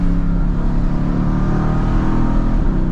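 A tuned 2017 Mercedes-AMG GT with upgraded turbos pulls hard in third gear, its engine droning loud and steady from inside the cabin with a deep, continuous roar.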